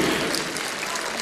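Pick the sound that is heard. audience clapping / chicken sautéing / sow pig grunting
audience clapping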